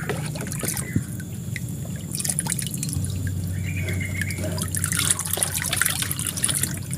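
Water poured from above onto plant potting medium in a pot, a soft close trickle and scattered drips that carry on steadily and quietly throughout, with no talking.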